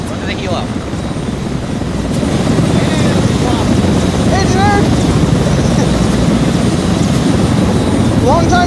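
A video game helicopter whirs loudly and steadily up close, its rotor drone filling the low end while scattered chirps and game effects flicker above it.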